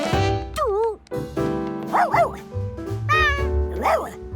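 Blaze, a cartoon dog, lets out several high, yappy barks and whimpering yips in quick bursts. Gentle background music plays underneath.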